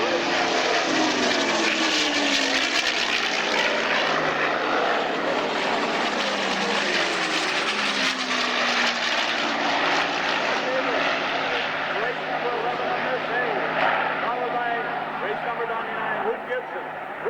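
Propeller aircraft including a Corsair flying at an airshow, a loud sustained engine roar with rising and falling pitch sweeps as planes pass overhead, continuous and close throughout with a commentator talking over it.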